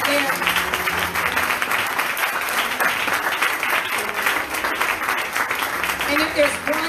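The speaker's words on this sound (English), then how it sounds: "Clap those hands right there." Church congregation clapping hands together after a closing prayer, a steady dense wash of applause sustained throughout, with some voices and music mixed faintly beneath.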